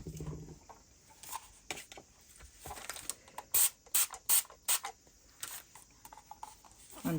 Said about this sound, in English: Spray a little water on it.